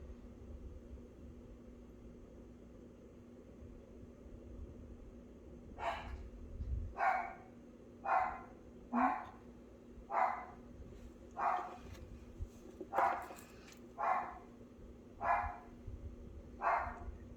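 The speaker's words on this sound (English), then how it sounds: "That's my dog." A dog barks repeatedly indoors, about a dozen single barks at roughly one-second intervals, somewhat distant and moderately loud over a low steady background hum.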